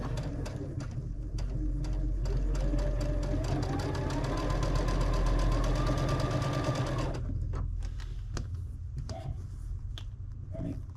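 Sewing machine stitching a scant quarter-inch seam on a baby quilt runs loud and steady for about seven seconds with a rising whir, then stops, leaving faint handling clicks.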